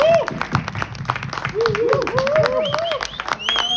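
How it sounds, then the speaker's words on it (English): Audience applause and cheering for Naga Chaitanya at the Thandel trailer launch event in Mumbai: dense clapping with rising whistles and shouts throughout, with voices mixed in. "So we got to give him a big round of applause."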